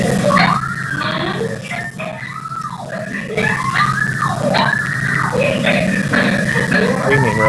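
A woman screams repeatedly on a recorded 911 emergency call, loud rising and falling wails in several long bursts over a hissy, distorted phone line.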